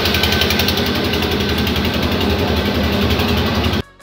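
A cricket bat making machine runs with a steady, dense mechanical hum and rapid rattling throb at close range, then stops abruptly.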